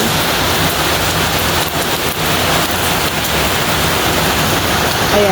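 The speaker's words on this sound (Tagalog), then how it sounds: "umuulan na talaga" Steady rain pours down in a constant, dense hiss with no pauses, loud and close throughout.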